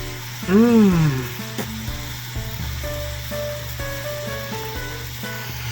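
Sausage frying in a home kitchen pan gives a steady sizzle throughout, with a rising whistle-like tone near the start and faint household sounds over it.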